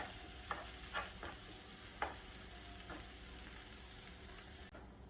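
Ground filling seasoned with sazón sizzles steadily in a pan in its own grease, with no added oil, for yucca-flour pastelillos. A few light scrapes of stirring sound over the constant frying hiss.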